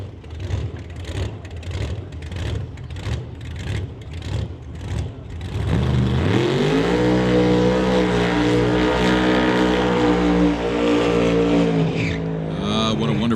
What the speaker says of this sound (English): Dueling burnouts.